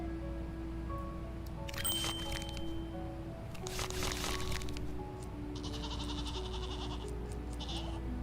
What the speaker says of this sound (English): Maybe we need some like different goat sounds.